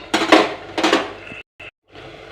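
A metal pot lid clatters onto a cooking pan in a home kitchen, two quick clanking knocks followed by a faint short scrape, close and alone.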